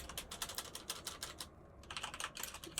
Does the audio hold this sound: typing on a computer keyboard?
yes